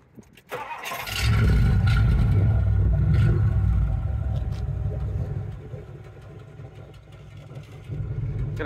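A 1964 Ford Thunderbird roadster with a 390 V8 cranks briefly, fires into a loud, deep revving rumble, then settles into a steady, throaty idle close by.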